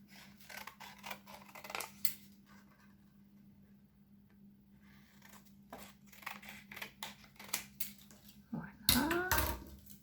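Scissors cut through paper while making a small paper album sleeve: soft, close snips spaced out over a quiet background, ending in a sharper rustle and clatter.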